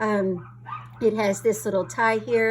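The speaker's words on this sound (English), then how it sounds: "excuse my dog's going crazy in the background" A pet dog barks and yips excitedly in the background, several sharp harmonic barks in a quick irregular series while someone talks over them.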